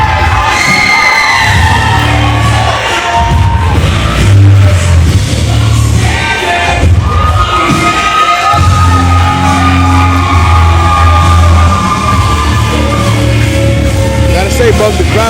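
A wrestling crowd, mostly young girls, screams and cheers loudly and steadily throughout, with shrill shouts rising over a dense roar and a commentator's voice cutting in underneath.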